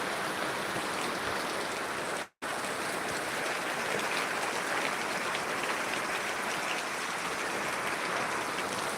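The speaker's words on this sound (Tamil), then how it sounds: "மழை நிற்க போகுது" Steady heavy rain pours down over a rice paddy farm in a village in Tiruppur district, a dense continuous hiss close by, broken once by a brief dropout.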